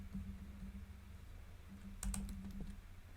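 Computer keyboard clicked in a short quick burst of keystrokes for cut and paste, faint over a low steady hum.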